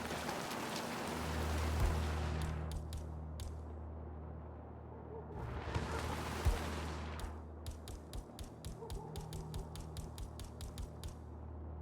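Rain in the video game Hitman 3 patters steadily as a soft hiss, with bursts of heavier downpour swelling and fading and a run of quick rapid taps toward the end, faint and distant overall.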